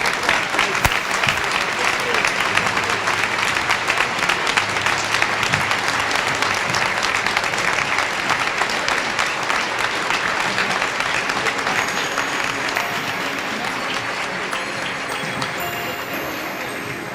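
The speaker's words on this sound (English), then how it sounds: "applause for our keynote speaker" Long, sustained applause from a large audience at a Martin Luther King Jr. breakfast event, honoring the keynote speaker; dense and even, easing slightly toward the end.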